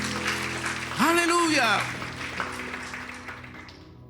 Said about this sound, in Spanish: Denle un aplauso grande a Él en esta hora.